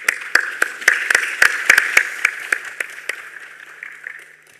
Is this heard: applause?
yes